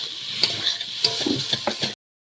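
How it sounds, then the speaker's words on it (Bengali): Fried potatoes are sautéed and stirred in a spice masala in a pan, giving a steady close sizzle with scraping stir strokes, then cutting off abruptly; no one speaks. "তো আলুগুলো দিয়ে একটু ভালো করে কষিয়ে নেবে।"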